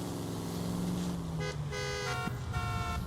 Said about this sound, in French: ils sont bien joyeux avec le klaxon